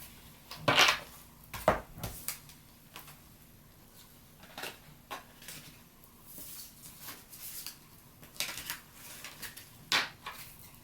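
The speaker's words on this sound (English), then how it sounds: "I just got to shuffle the cards" Tarot cards are shuffled by hand in a quiet room, producing soft, irregular riffling and tapping bursts with short pauses between them.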